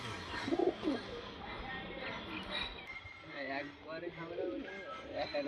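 Pigeons cooing nearby in soft, repeated throaty calls, mixed with background voices talking.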